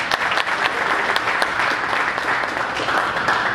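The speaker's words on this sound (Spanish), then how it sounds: "Un aplauso para el visitante," Audience at a boxing press conference applauding the visiting fighter, with dense continuous clapping from a sizeable crowd, steady and even throughout.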